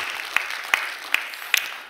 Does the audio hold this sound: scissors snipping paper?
no